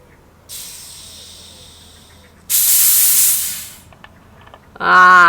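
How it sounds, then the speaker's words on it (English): A bottle of homemade elderflower champagne being opened: a soft hiss, then a louder, rushing fizz that swells for over a second and fades away, followed by a brief burst of a voice exclaiming close by. "So we are going to open the elderflower champagne again because it didn't fizz last time."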